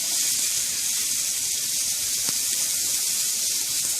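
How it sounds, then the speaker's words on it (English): Beef sizzles in a hot pan with a little oil, a steady, bright frying hiss that stays loud and even throughout, with one brief tick partway through. "The beef goes in. Has to be hot. Here it's sizzling."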